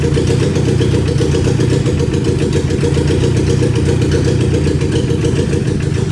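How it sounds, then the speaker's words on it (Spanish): Honda Accord drift project engine idling steadily with its electric radiator fan running, a constant loud, close drone with an even whirring rush layered on top, no voices. "ahora vamos a prender el electro un rato y vamos a ver si baja, movemos otra vez el motor"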